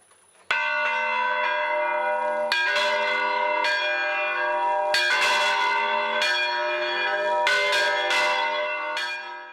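Restored church bells of Pelaustán in Toledo province ring out loud and close, several strikes overlapping into a rich, sustained peal with fresh clangs landing every couple of seconds.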